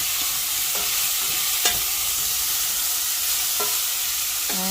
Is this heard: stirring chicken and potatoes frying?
yes